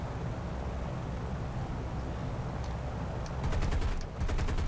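Rapid 30mm cannon bursts from an Me-410 fired at a B-17 in the War Thunder video game, a dense rattling barrage over a constant loud engine drone, with sharper bursts near the end.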